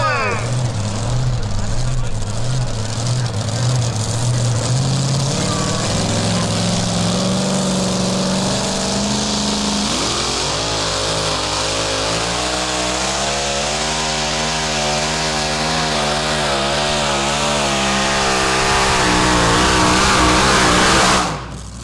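A Foul Play Chevrolet pulling truck runs at full throttle at a county fair truck pull, its tires spinning. The loud engine revs and climbs in pitch, then holds a sustained, strained roar, with an announcer's voice over it.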